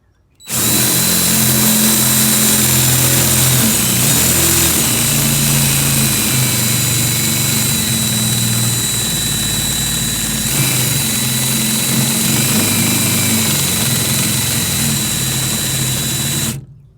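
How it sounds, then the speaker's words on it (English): An electric drill bores a half-inch hole in metal for seatbelt hardware, running steadily for about sixteen seconds, a loud continuous whine with motor hum, starting and stopping abruptly with no talking. "I'll drill a 1/2-inch hole and put my hardware on that"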